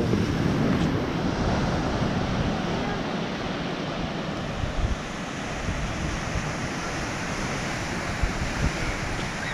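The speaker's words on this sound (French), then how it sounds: "ça souffle fort. Et ça c'est la mer du vent." Strong wind and rough sea near Calvi: a constant roar of gusting wind buffeting the microphone over the broad wash of breaking waves, loud and unbroken.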